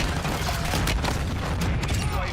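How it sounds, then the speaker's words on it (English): Dense, loud gunfire crackles in a Call of Duty Warzone match, with a rapid burst of shots and sharp impacts layered over continuous game noise. "oh, I'm being shot"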